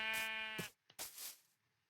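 Blocky Minecraft sheep give two short, nasal bleats one after the other, clear and close against near silence, in a game scene where the animals have climbed ladders in a pen.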